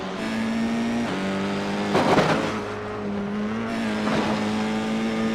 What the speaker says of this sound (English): Hear how early Ryan James Ward picks up the throttle.